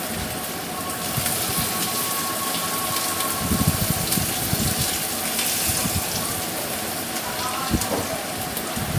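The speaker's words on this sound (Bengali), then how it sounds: "আমি তেলের ভিতরে হচ্ছে পেঁয়াজ কুচিটা দিয়ে দিয়েছি। এটা ভেজে নেব এখন।" Chopped onion frying in oil makes a dense, continuous crackling sizzle, close and fairly loud, that swells in the middle.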